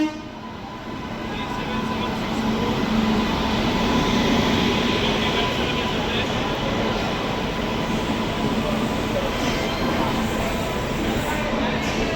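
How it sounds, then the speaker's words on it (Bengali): The Sairang–Kolkata inaugural special train pulls into a station, a loud continuous rumble of wheels and carriages rolling steadily past close by, with a faint horn tone underneath. "ট্রেন আসছে, চলো দেখা।"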